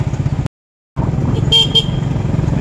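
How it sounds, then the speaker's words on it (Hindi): Motorcycles rumble in dense traffic on a crowded road, with engines droning close by and a couple of short horn toots, and the sound briefly cuts out partway through. "पीछे मोटरसाइकिल देख रहे होंगे आप कितनी मोटरसाइकिल लगी हुई है"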